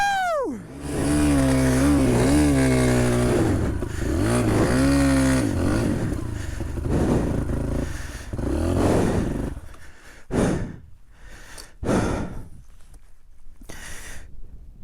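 A cheap dirt bike engine revs and roars hard while being ridden, pitch sweeping up and down with each throttle change, close and loud, then cutting into choppy bursts near the end.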